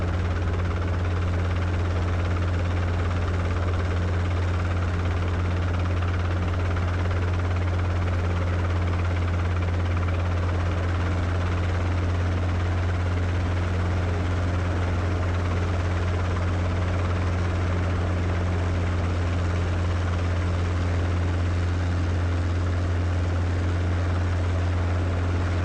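Robinson R-22 helicopter in flight, heard from inside the cabin as a steady, loud rotor and engine drone with a deep low throb that holds constant throughout, no voices.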